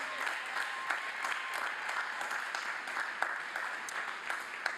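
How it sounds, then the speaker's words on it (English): Sustained applause from a large crowd at a university commencement ceremony, dense steady clapping throughout at moderate distance. "Let's give them a big round of applause again before we end."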